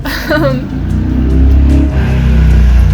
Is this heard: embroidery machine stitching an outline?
no